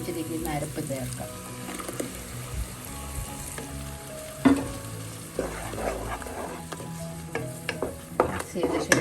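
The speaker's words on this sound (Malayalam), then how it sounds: "ഈ സമയം അരച്ച് വെച്ചിരിക്കുന്ന അരപ്പ് ചേർക്കാം." Ground coconut paste goes into a pan for a green mango prawn curry, with sizzling and repeated scraping and stirring sounds close by, some sharp clatters among them, mostly under a voice talking.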